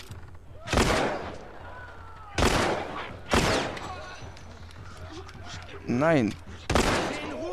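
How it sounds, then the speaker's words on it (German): Scattered gunshots from The Last of Us, aimed at chains: five sharp, loud reports spaced a second or more apart over a quiet background, with a short spoken word between them. "Ich schieß hier die ganze Zeit auf die Ketten."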